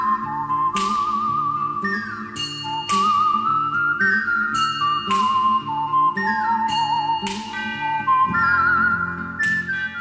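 A whistled melody rides over a steady orchestral backing in a film score for a Sergio Leone film, with sharp whip-crack percussive sounds recurring every couple of seconds throughout.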